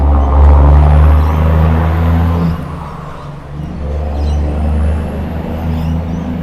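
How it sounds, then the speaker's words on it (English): A loud truck passes close by on a road, its heavy engine rumbling steadily with a high whine, easing slightly midway and then droning on. "oh my God, loud truck"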